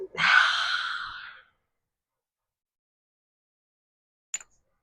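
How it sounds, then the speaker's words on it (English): A big open-mouthed yoga exhale with the tongue out, one long breathy rush lasting about a second up close, followed by silence and a brief faint click near the end. "And then do a nice big exhale, stick out your tongue."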